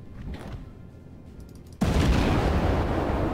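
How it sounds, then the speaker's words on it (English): Battleship main guns firing in the naval video game World of Warships, a single sudden loud blast that cuts in after a quieter stretch and sustains as a dense roaring rumble. "Firing on them."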